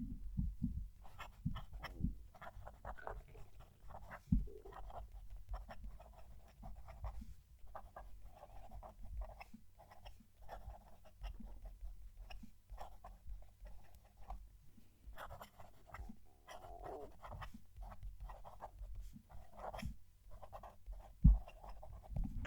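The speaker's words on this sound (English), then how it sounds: "When I'm writing with it, it's smooth, but then you get the occasional scratches depending on the direction that you're going in." Duofold-style fountain pen with a medium nib writing on paper, faint close-miked scratching strokes in an irregular rhythm with small pauses, occasional slightly louder scratches, no talking.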